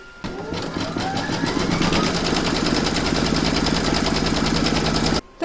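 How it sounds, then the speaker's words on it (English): An embroidery machine stitches fabric down on an in-the-hoop coaster, a loud rapid mechanical whirring and tapping that starts abruptly, runs steadily for several seconds and then cuts off. "Pop your hoop back into your machine and stitch round number 6"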